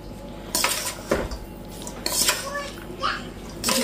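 A metal spoon scrapes and clanks around a kadai on a gas flame as food is stirred, in several loud bursts with quieter gaps, while a voice, including a child's, talks nearby.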